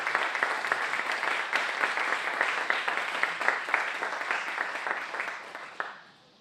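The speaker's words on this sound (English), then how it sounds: "Please give an applause to Hani Shaklada." An audience applauds a guest, Hani Shaklada: steady, dense clapping from a crowd for about six seconds before it thins out and fades at the end.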